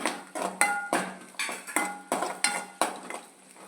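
Garlic roasts to golden in a pan, stirred with quick rhythmic scraping strokes roughly twice a second, each a close metallic swipe over a faint frying hiss, with no one speaking.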